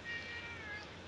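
A cat meows faintly, giving a thin, drawn-out cry over a steady hiss of background noise.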